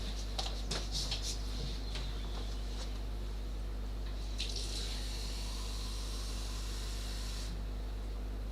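Drinking water is poured or run from a tap, with a few splashy clinks early, then a steady hissing stream for several seconds before it cuts off, over a constant low electrical hum.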